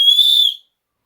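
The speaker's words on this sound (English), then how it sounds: "The tone of the whistle is rather shrill" One hard blast on an ACME Slimline Tornado Whistle, model 636, gives a piercing, shrill tone. It is close and loud, lasts about half a second, then stops dead into silence.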